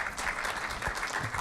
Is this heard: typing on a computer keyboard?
no